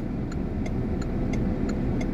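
Busy road traffic with cars and buses passing. A steady, dense engine rumble holds throughout, with faint regular ticking above it.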